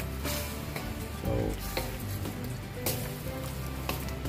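Chicken with broccoli is stirred in a sizzling pan, with steady frying hiss, repeated scrapes and taps of a utensil against the pan, and brief talk underneath.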